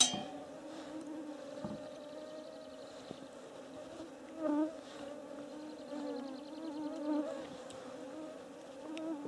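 A thin, persistent insect buzz of mosquitoes hums steadily in the background at a campsite, with faint clinks and small handling noises close by and no clear talking.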